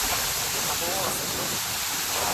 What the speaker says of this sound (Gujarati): પાણી આવે છે મોટર ચાલુ કરી છે એટલે પાણી પાવાનું ચાલુ